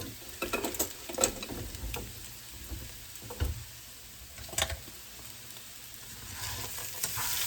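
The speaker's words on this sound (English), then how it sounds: "I washed my skillet out and I put my potatoes in there, and they are Walmart brand hash browns." Walmart brand hash browns sizzle and crackle in a freshly washed skillet, a steady frying hiss with scattered pops and soft scraping, fairly close and moderately quiet, no one talking.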